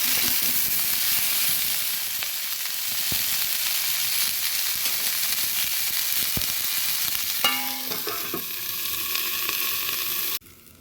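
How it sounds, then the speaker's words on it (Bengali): Beans frying in a pan with onion stalks give a steady, loud sizzle, with brief stirring scrapes near the end before the sound cuts off. "কিছুক্ষণের জন্য ভেজে দিচ্ছি"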